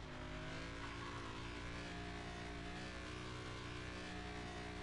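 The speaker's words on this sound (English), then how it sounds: "I like the engine sound." A car engine in the Car Mechanic Simulator 2021 driving game drones and revs with a steady, loud layered hum that rises and falls slightly, with no talk over it.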